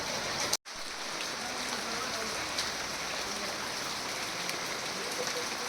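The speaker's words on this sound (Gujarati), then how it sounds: "આજે અંબાજીમાં મોડી રાત્રે ભારે ગાજવીજ સાથે ધીમી ધારે વરસાદની સાથે વાવાઝોડું" Rain pours steadily during a night storm in Ambaji, a dense, even hiss of falling water that runs throughout with only a brief dropout near the start.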